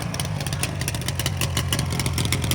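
A modified Yamaha RD 350 HT motorcycle fires up on the first kick and keeps running with a steady, loud, close engine buzz, with no speech over it.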